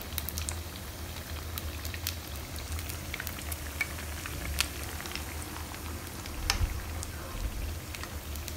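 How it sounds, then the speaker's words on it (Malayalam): Rava biscuits deep-fry in oil over a low flame, a steady soft bubbling sizzle with scattered small pops and crackles, close and even throughout with no voices. "ഇപ്പോൾ ഇത് നല്ല ഫ്രൈ ആയി കഴിഞ്ഞു."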